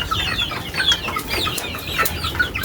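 Young chicks pecking at feed in their coop give rapid, overlapping high cheeps, several birds calling at once, close and fairly soft.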